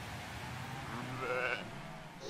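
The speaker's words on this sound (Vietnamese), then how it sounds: "cô sẽ làm cừu non hoảng sợ" Lambs bleating in a pen, a couple of thin wavering bleats of moderate loudness over low background noise.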